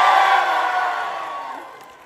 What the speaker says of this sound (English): So Waves, you're gonna continue to cheer for us like you are doing right now